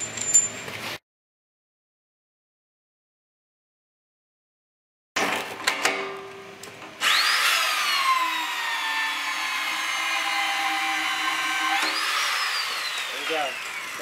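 Power wrench tightening a TC (tension-control) high-strength steel bolt during a bolting inspection demo: a loud, steady whine with rising pitch sweeps, preceded by brief tool bursts after a silent gap, with talk early on.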